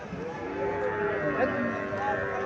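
A Sahiwal bull calf at a cattle market near Comilla lows in a long, continuous moo, fairly close and steady, with the faint hum of the market around it.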